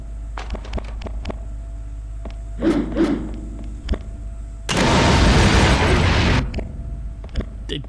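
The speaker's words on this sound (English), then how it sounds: "All right, let's put a bomb down." A bomb goes off in a video game: a loud, broad roaring blast lasting about two seconds, set among sparse clicks, thuds and a shorter muffled burst just before.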